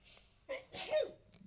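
A single sneeze, near and fairly loud, with a short inhale just before the burst, followed by quiet room tone during a podcast conversation.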